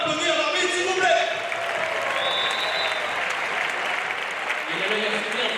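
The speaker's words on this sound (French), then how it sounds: "est-ce que toute la classe Arena peut applaudir l'arbitre, s'il vous plaît?" Arena crowd at a wheelchair handball match applauding the referee, a broad, steady burst of clapping and crowd noise with voices audible within it, loud and continuous.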